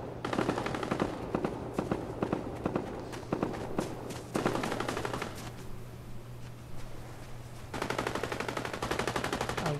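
Rapid bursts of gunfire from the Fortnite video game, with repeated sharp shots and short volleys at close range, brief pauses in between, and a steady low hum running underneath.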